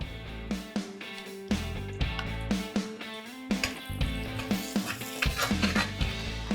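Chili garlic sauce and ketchup stirred in a hot pan while making butter chicken, a sizzle under repeated scraping and clinking of a spoon against the pan at a steady, uneven rhythm.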